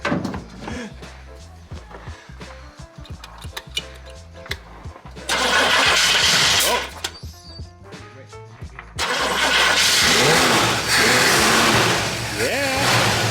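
A car engine fitted with a tiny two-barrel carburetor cranks and catches, bursting into loud, rough running in two long stretches with voices talking over it.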